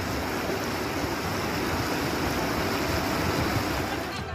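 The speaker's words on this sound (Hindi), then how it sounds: "बाढ़ का पानी कई पुलों और बांध को बहाकर ले जा चुका है" Floodwater surges past bridges and a dam, a loud, steady roar of rushing water that holds constant and fills the whole clip with no pauses.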